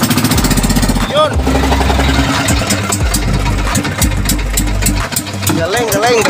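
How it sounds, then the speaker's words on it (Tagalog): A loud, close boat engine chugs with a rapid, rough rhythm after a Filipino wooden bangka is launched, while voices talk over it. "paandar muna yung sa taas na makina"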